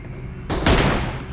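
A sniper shot from an M24 rifle in a video game, heard as two loud, close gunfire blasts in quick succession with a short ringing tail. No one speaks.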